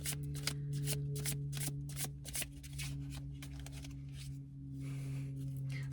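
A deck of playing cards is riffled and bridged repeatedly in close, rapid bursts, a steady low hum running underneath the whole time.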